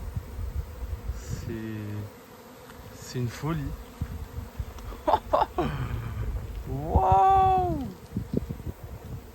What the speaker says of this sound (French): Vous vous rendez pas compte le nombre d'abeilles qu'il y a là.